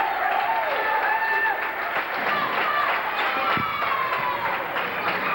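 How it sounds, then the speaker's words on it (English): Fans at a 1998 Waltham versus Everett high school basketball game clap steadily in a noisy gym late in the game. Sneaker squeaks and crowd murmur run through the loud, continuous din. "As Waltham begins to sense victory, as the fans start clapping"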